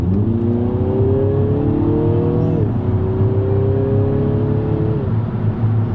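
A Mini JCW Clubman engine accelerates on the road, heard from inside as a loud, steady drone that climbs in pitch through two gears with a brief drop at the shift, no talking.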